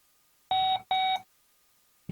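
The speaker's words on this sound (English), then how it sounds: "So we hear the beep beep." Two clear electronic beeps from a Blurams 1080p dome PTZ security camera during Wi-Fi setup, each about a quarter second long with a short gap between, close and loud in a quiet room.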